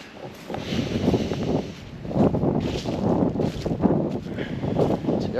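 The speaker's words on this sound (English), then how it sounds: "It's windy though. It's really windy." Strong gusts of wind buffet a tent at a cold-weather camp, roaring and rushing in uneven surges with rough microphone buffeting and no voices.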